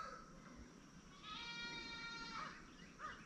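Goats bleat at a small homestead farm, a long, wavering bleat rising near the middle with another shorter call after it, moderately close over steady outdoor background noise.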